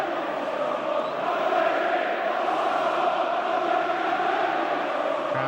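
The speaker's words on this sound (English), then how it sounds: "Crowd taunting George Graham." A large football crowd at a Leeds United versus Tottenham match keeps up a sustained, dense roar of chanting aimed at George Graham, loud and continuous with no breaks.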